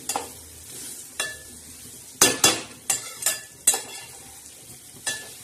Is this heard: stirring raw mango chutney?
yes